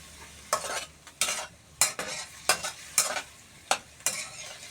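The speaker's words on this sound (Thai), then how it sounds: "ถ้าทอดด้วยน้ำเปล่าเนี่ย มันจะเหลืองมันจะหอม" Chinese sausage frying in water in a pan, stirred in repeated bursts of sizzling scrape about every half second to second, close and fairly loud with no talking.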